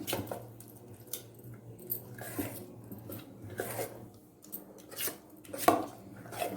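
A spoon stirs a thick batter of rava, curd, salt and sugar in a bowl for dhokla, soft irregular scraping and squishing strokes repeating at a moderate pace, close and fairly quiet.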